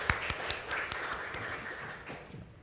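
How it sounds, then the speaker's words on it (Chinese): Applause from a church congregation during an Advent first-Sunday combined worship service, a soft, steady patter of many hands at moderate distance, slowly fading over a few seconds with no talking. "我们用鼓掌再次谢谢他"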